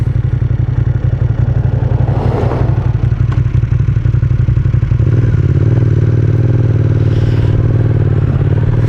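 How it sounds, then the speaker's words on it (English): A motorcycle pulls over on a dusty Australian country road. The engine hums loudly and close, then settles into a lower, steady idle as the bike comes to a stop, with faint scraping underneath. "I'm just going to put my indicator on and sort of pull over to the side here and then just come to a complete stop"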